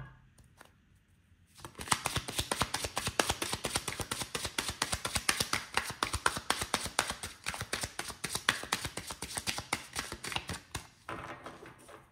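Tarot cards are shuffled and drawn in a steady run of quick, crisp riffling taps that start after a short quiet moment and continue densely for about ten seconds, close and clear with no talking.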